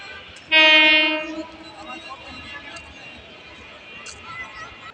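At Tongi railway junction, a train horn sounds one loud, close blast lasting under a second, then fades into rumbling rail noise and faint background activity.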